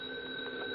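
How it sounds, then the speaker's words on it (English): An old-fashioned telephone rings in a bar scene from the 1960s series The Saint, a short steady electronic-sounding tone heard alone at moderate volume. "The phone keeps yapping all the time."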